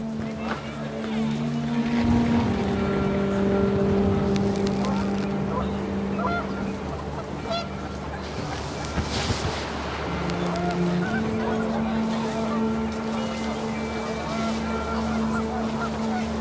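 Panicked geese in the video game What Remains of Edith Finch honk in a brief burst as wind picks up, over a steady mix of game music and ambient sound.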